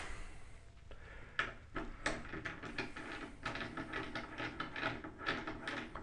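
The snare wire tension screw on a snare drum is loosened, giving a quiet run of small irregular mechanical clicks and ticks over several seconds, with no voices.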